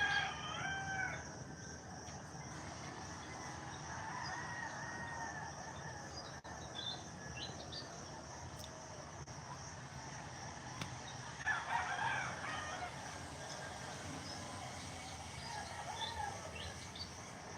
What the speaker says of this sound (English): I hear pigs whining way in the background, roosters, some other birds, a symphony, an absolute morning symphony.